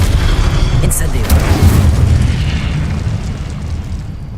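Incendio fire spell cast in Hogwarts Legacy, a loud whooshing burst that swells into a booming rush, then fades into dense game ambience.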